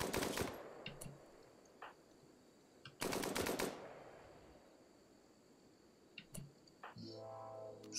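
RimWorld colonists open fire with guns, two loud rapid bursts of automatic shots separated by quieter single reports, ending in a tonal buzzing effect, no talk.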